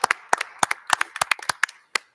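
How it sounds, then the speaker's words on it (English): A handful of people at a board meeting clap for the operations staff, sparse, sharp individual claps in an irregular rhythm, close and distinct, thinning out over about two seconds. "I want to give you another round of applause"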